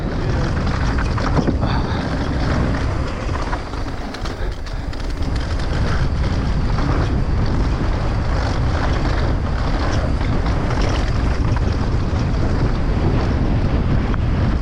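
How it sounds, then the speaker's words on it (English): Strong wind roars steadily and loudly across the microphone on a mountain bike ride, buffeting it continuously, with faint water sounds underneath. "It's so windy."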